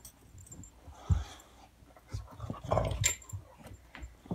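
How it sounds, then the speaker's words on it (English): Dogs play together nearby with panting, scuffling, a short low growl and soft whimpers, irregular bursts over a background of movement and handling noise. "dogs playing around down here"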